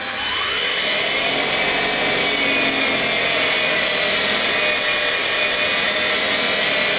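Electric motor with newly fitted brushes being seated spins up hard and holds a steady loud whine with a rising tone for the whole stretch, continuous and close, with no voices.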